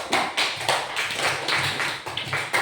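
A class applauds a student group, with uneven bursts of close clapping from a modest number of people that swell and dip in quick waves without talking.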